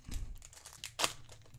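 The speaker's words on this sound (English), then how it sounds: "So let's go ahead and crack them open," MetaZoo trading card packs being torn open by hand, close and quiet: a run of crinkling foil wrapper sounds with one sharper rip about a second in, no talking.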